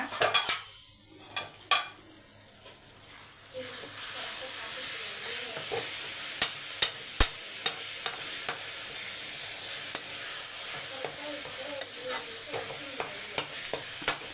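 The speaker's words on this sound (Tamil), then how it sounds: "இப்போ வந്து முட்டையை மிக்ஸ் பண்ணி வச்சுருங்க" Beaten eggs are broken up and stirred in a hot pan, a spatula ticking and scraping sharply against the metal in irregular bursts over a continuous sizzle, with a few quiet clinks near the start.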